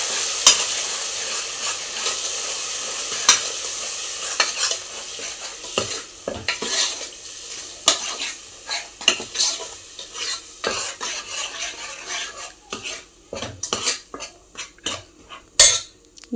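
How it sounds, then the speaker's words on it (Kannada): Masala for a homestyle mutton curry with vegetables frying on low heat, a continuous sizzle under brisk, repeated stirring with metal spoon scrapes and pot clatter, close-up and fairly loud with no talking. "ಮಸಾಲೆ ಹಾಕ್ತೀನಿ. ಇದು ಚೆನ್ನಾಗಿ ರೋಸ್ಟ್ ಆಗಬೇಕು"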